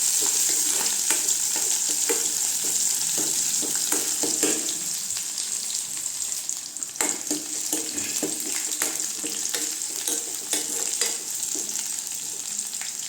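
Onions sautéing in a pan while preparing a liver fry, a continuous bright sizzle broken by repeated scraping stirs and sharp utensil taps, close and steady with no speech.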